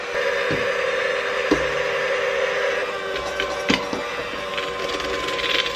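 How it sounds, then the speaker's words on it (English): A hand sifter working dry cake ingredients into a bowl of wet batter in a home kitchen, giving a steady run of ratcheting, gear-like clicks with a few sharper knocks, close and alone. "we are just sifting these together"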